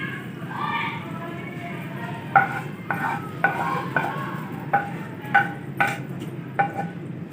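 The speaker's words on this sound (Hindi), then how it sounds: "कैरेमल डालेंगे पॉपकॉर्न के ऊपर।" Hot caramel poured over popcorn in a pot on a switched-off stove, then stirred, giving a soft sizzle with repeated sharp spoon scrapes and knocks against the pan in a steady rhythm.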